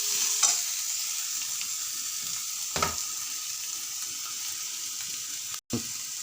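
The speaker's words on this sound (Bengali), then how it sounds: "টমেটো পেস্ট করলাম টমেটোটাকে দিয়ে দিলাম এটাতে এখন ফ্রাই করলাম" Tomato paste sizzles and fries in a pan for an egg and potato curry, a soft, continuous hiss with a few clinks of stirring and a brief dropout near the end.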